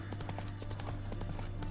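Horse hooves clip-clopping at a steady riding pace in The Witcher 3, faint and rhythmic over a low constant hum.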